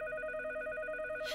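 Touch-tone dialing on a cheese-shaped telephone in a Teenage Mutant Ninja Turtles cartoon, a steady run of bright electronic tones beeping in quick succession, ending with a short burst of noise.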